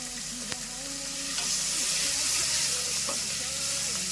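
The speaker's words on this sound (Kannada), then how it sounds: "ನಂತರ ಎಣ್ಣೆಲಿ ಬಾಟ್ಕೋಬೇಕು ಜಾಸ್ತಿ ಬಾಟ್ಕೊಳಕ್ಕೆ ಹೋಗ್ಬೇಡಿ" Small sambar onions sauté in hot oil for a sambar, giving a steady, close sizzle with a few light stirring scrapes and taps in the pan.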